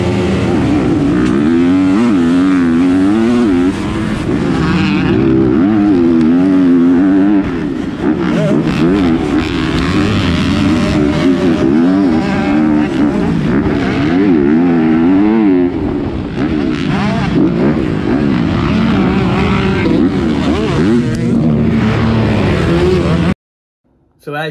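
A motorcycle engine screams and revs continuously during a C class dirt bike race at Crow Hill NESC, loud and close with rapid shifts in pitch, then cuts out abruptly near the end.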